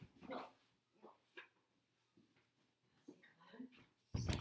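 A dog barks and yips in a few short bursts at close range indoors, with a louder sharp bark at the end, mixed with soft background noises.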